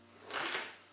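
A knife cutting a yam in half on a board: one short, soft, crisp slice that swells and fades in under a second, quiet and close.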